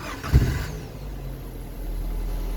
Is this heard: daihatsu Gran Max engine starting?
yes